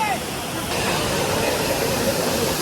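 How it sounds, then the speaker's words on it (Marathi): A two-tiered waterfall in a Konkan village in Raigad rushes with a steady, broadband roar that fills the short stretch at close range. "असा आहे धबधबा 2 टप्प्यामध्ये"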